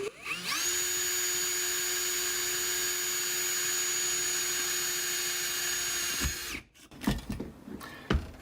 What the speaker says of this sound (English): I'm going to drill a 1/8 inch hole through the other side